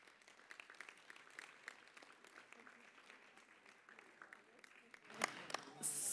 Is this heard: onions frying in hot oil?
no